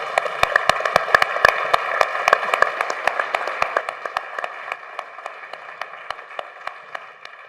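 Scattered, fairly sparse clapping from a small audience at a candidate debate, distinct individual claps over a steady background hum, thinning out toward the end.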